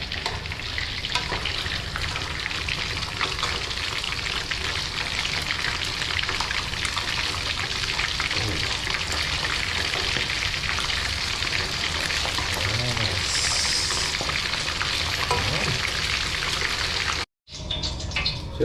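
Tilapia sizzles and crackles steadily in hot oil in a pan, a dense continuous frying hiss with faint clinks as the fish is flipped, near and loud before a brief cut.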